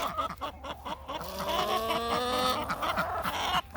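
Several chickens cluck and murmur nearby in a steady, overlapping stream of short calls, fairly loud, with light outdoor background noise.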